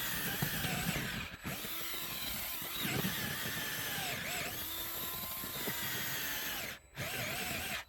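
Power drill boring steadily into hard caliche ground in a dry depression, a loud continuous grinding whine with brief pauses, no talking.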